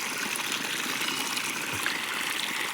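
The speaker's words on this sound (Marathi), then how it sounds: "हे आपल्या बोरचं पाणी चालू आहे" Borewell water pours from a pipe into a farm field, a steady, unbroken rushing gush at constant loudness with no pauses.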